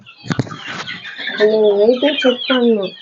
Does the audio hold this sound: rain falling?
no